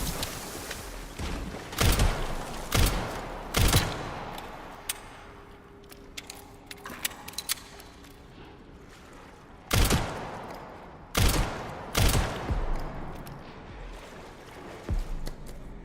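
Gunshots in the Resident Evil Requiem video game: scattered sharp cracks in small clusters, some single and some in quick pairs, separated by quieter gaps.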